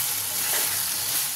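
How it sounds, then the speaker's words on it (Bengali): Dried fish with melting tomato sizzles and crackles steadily in a frying pan as it is stirred, a close, continuous hiss with no voices. "মাছটা দেখো আমি একটু নেড়ে দেবো"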